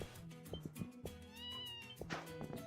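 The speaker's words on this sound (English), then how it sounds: "That's a cat." A cat in the game Ys SEVEN gives a few soft, drawn-out meows over quiet background game sounds.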